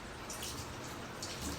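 Tap water running over hands being wetted for handwashing, a soft continuous splashing with faint drips.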